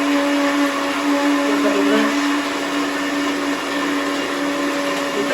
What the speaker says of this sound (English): So I'm just going to put it on the blender.